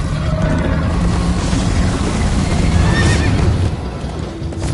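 A horse in the video game Minecraft Story Mode whinnies loudly over galloping hoofbeats and rushing, busy background noise.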